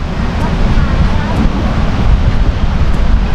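Cool wind blows steadily at a seaside campsite in Chumphon, Thailand, a loud continuous rush of wind noise buffeting the microphone with possible surf beneath, no talking.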